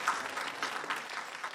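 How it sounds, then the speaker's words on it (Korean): Brief applause rises from the audience at a Gwangju education forum, a short, moderately quiet patter of many hands clapping together. "박수 한번 부탁드리겠습니다."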